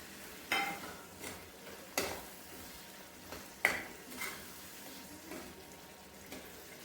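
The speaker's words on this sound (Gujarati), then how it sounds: "હવે આપણે તેમાં ફ્રાય કરેલા કાજુ એડ કરી દઈશું" Fried cashews tipped into sizzling masala and stirred, giving a few soft scraping stirs and small clatters spaced over a quiet, steady low sizzle, fairly faint with no talking.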